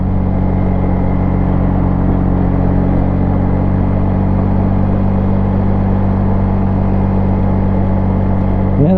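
A 2001 Yamaha Bear Tracker 250 ATV, its small engine recently serviced with adjusted valves and a cleaned carburetor, drones loud and steady at close range while riding, a constant rumble with no break and no voices.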